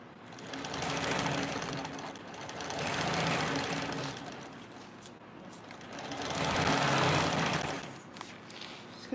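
A sewing machine runs at low volume, stitching a 3/8 inch seam allowance in three swelling bursts of fast, buzzing whir, with short pauses between the runs.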